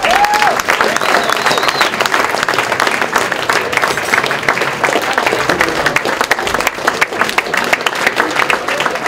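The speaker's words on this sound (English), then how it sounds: "these guys really deserve a round of applause" Audience applause, a loud and dense crowd clapping that runs unbroken from start to end. Occasional voices and cheers rise above the clapping.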